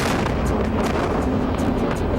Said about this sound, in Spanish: Es un bombardeo intenso y un tronido estremecedor